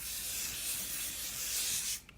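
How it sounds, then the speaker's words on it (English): A long continuous hiss of an aerosol hairspray can held down for about two seconds, close by, then cutting off abruptly. "It's literally hairspray."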